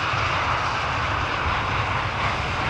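A fixed-wing airliner arrives at Amsterdam Schiphol Airport, its engines a steady, broad roar that is moderately loud and constant throughout, with no voices.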